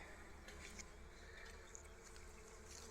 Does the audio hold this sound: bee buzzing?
yes